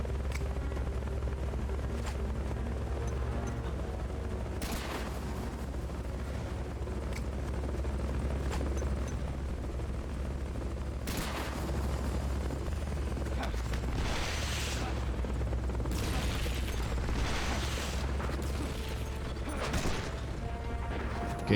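A helicopter thrums with a steady rotor whir in the game Metal Gear Solid: Peace Walker, a constant loud drone with mechanical clanks and bursts on top, while players talk over it.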